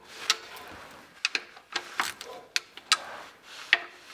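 A ratchet clicks in short bursts while tightening the bolts on an automatic transmission pan, sharp close metallic ticks spaced irregularly across a few seconds, with no talking over them.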